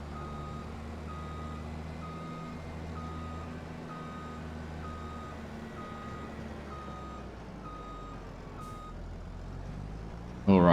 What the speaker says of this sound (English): we're just going to reverse all the way back to the corner